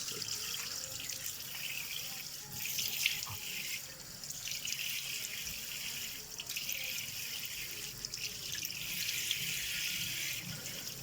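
Steady running water from a sink tap during rinsing after a black peel-off face mask treatment, a continuous close hiss with occasional drips and splashes, alone with no talking.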